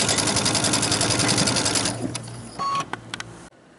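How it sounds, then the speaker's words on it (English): A sewing machine stitches straight across a quilt block seam, a loud, steady rapid mechanical chatter for about two seconds that then slows and stops, leaving a few faint clicks and handling sounds. "And so I just hold this tight and sew right across."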